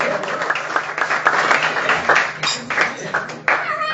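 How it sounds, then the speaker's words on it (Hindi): Guests at a home birthday celebration for a mother clap loudly, bursts of many hands rising and falling unevenly while voices talk over the applause. "जोरों तालियों से माता जी को आशीर्वाद दें"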